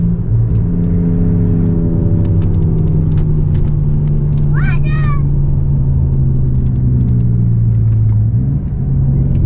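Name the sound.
Chrysler car driving, cornering on Eibach lowering springs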